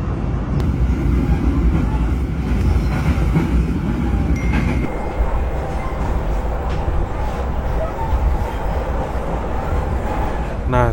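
Ciremai Executive passenger train running on the Purwakarta–Bandung line, a steady loud rumble of wheels and carriage noise throughout, with a shift in tone partway through and a faint rising squeal near the end.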